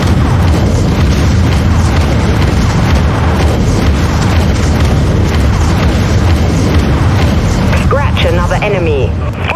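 Vulture missiles in the space-combat video game Dreadnought detonate as a continuous, loud stretch of booming, rumbling explosions under heavy battle noise, with a voice briefly heard near the end.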